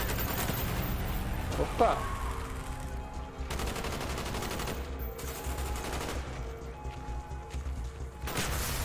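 Bursts of automatic gunfire in Call of Duty: Black Ops, sustained rattling volleys close up with brief pauses, a shouted voice over the shooting.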